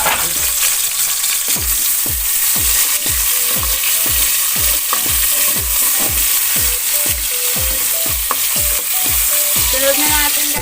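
Onions sauté in a pan for pork sinigang. A loud, continuous sizzle is cut by about two dozen regular scraping stirs of a utensil against the pan, with no voices.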